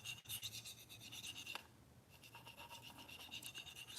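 A Cruwear steel knife blade rubbed back and forth on an 800 grit sharpening stone, faint rhythmic rasping strokes with a brief pause midway.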